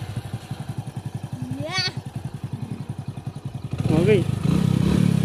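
A motorcycle with a push-button starter is started: the engine's rapid, even idle chugs close by, another engine rises and falls briefly, and the revving picks up louder near the end, with people talking over it.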